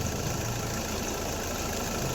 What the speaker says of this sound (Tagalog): Pero ang makina ko, steady pa rin yung takbo.